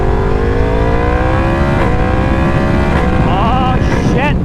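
A motorcycle engine drones loudly while riding on a bike fitted with brand new forks, its pitch climbing steadily through the gears with brief shifts and a rising rev near the end, close and continuous under wind noise.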